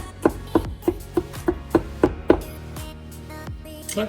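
A kitchen knife chops garlic on a cutting board: about eight sharp, evenly spaced taps, then softer irregular knocks, close and clear with no talking.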